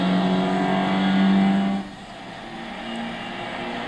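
A 1986 Toyota MR2 1.6 16V with a mid-mounted engine and five-speed gearbox revs in the Gran Turismo 6 racing game, giving a steady, fairly loud engine drone that drops in pitch and eases off partway through.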